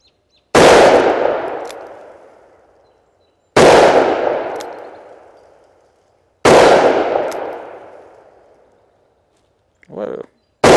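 A Taurus 605 revolver fires PPU 158-grain semi-jacketed hollow points outdoors: three loud, sharp reports spaced about three seconds apart, each ringing out and fading, with a brief fourth shot and a short voice near the end.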